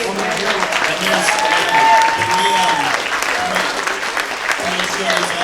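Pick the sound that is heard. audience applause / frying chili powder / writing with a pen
audience applause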